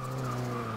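Tires skid and squeal under braking from a race car in Forza Motorsport 6, a steady sustained screech over a low engine drone, loud and continuous throughout.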